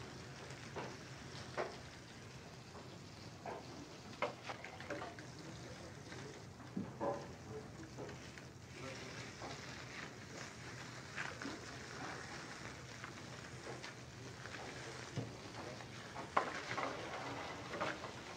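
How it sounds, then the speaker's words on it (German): Pike fillets frying skin side up in melted butter, a quiet, steady crackle and sizzle with scattered small pops and faint utensil scrapes, no voices. "The fillets are placed skin side up and fried in melted butter."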